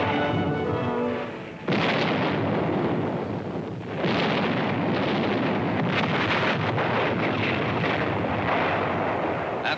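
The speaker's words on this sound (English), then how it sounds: "After a heavy artillery barrage," Heavy artillery barrage at El Alamein at night, deep booming blasts rolling into a continuous thunderous roar, with a brief lull before the pounding resumes loud and sustained.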